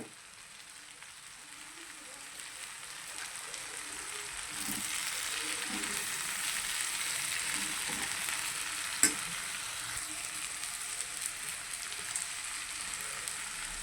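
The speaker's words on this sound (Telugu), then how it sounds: "ఈ బొటన్ నూనెలో బాగా మగ్గినాయండి ఇప్పుడు ఇందులో రుచికి సరిపడగా కారం వేసుకుంటున్నాను" Green peas fry in oil with chili powder, a steady close sizzle that swells and then holds, with occasional scraping taps from stirring and one sharp clink.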